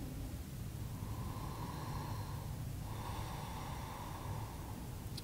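Slow, audible breathing during a yoga pose: two long, close exhalations with faint airy hiss, alone without talk over a steady background noise.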